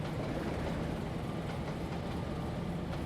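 Steady rumbling of a train running under brake in a train simulator game, a dense continuous roar with faint rail clatter and a hum, even in level throughout with no voices.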